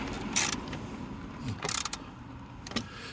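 A hand tool tightens a wire connection during a hard-wired dash cam install in a 2020 Hyundai Elantra, producing a few short metallic clicks and ratcheting scrapes, close by and moderately loud.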